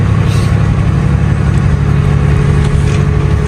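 A truck engine drones loud and close with a steady low rumble and a constant whine, holding an even note throughout with no clear gear change and no talking.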